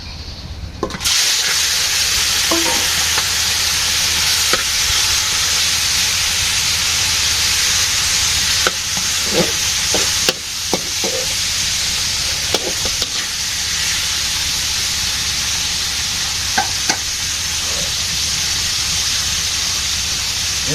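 Hot oil in a pan for a village-style fish curry with cauliflower, potato and tomato gives off a loud, continuous hissing sizzle that starts suddenly and runs unbroken, with occasional faint clinks and stirring bumps beneath it.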